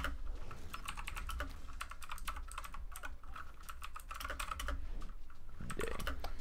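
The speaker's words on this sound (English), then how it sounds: "I got this new mechanical keyboard today, and I'll just, I don't know if you guys are going to be able to hear it or not, but I'll just type up" Rapid clicky keystrokes on a new mechanical keyboard while typing in a notes app, a dense, irregular patter of close, crisp key hits with no voices over it.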